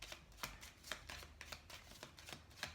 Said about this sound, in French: Allez, on va prendre quelques cartes avec le Normand.